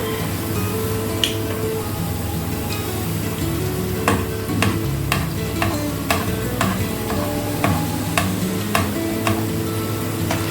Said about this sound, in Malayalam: 2 എണ്ണം വറുത്ത് കൊടുക്കാമെന്ന് വെച്ചു.